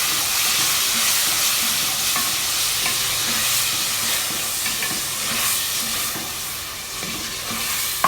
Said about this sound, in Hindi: ये हमने इसमें टमाटर ऐड कर दिए हैं। अब अच्छे से हम इसकी भुनाई कर रहे हैं।